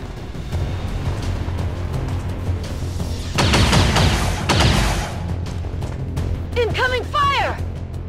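Gunfire in the XCOM 2 video game: a loud, dense burst of rattling shots and blasts over a rumbling battle ambience, with voices talking around it and a short stretch of warbling electronic tones near the end.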